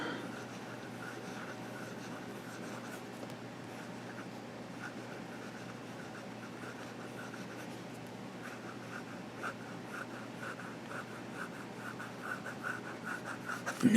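Fountain pen nib drawing small swirls on paper, a faint continuous scratchy scraping close by under a low room hiss.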